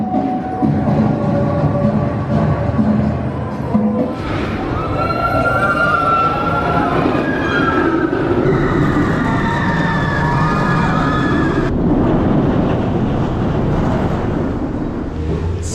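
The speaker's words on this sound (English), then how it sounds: "we've just had our first ride of the day on the B&M invert Black Mamba" Black Mamba, a 2006 B&M inverted roller coaster at Phantasialand, roars loudly and without pause, its rumbling rush overlaid by shifting whining tones as the train races along the track, with no talking.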